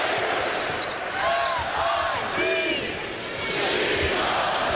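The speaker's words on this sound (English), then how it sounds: "Tiger faithful here in KC start the M-I-Z-Z-O-U cheer late in this ball game" Missouri Tiger fans in a Kansas City arena chant the M-I-Z-Z-O-U cheer late in a college basketball game against Hawaii, a rhythmic crowd call rising and falling over arena din, with a commentator talking over it.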